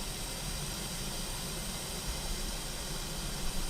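Steam hisses steadily onto the flat visor of a baseball cap being softened to break it in, a continuous close, even broadband rush with no speech.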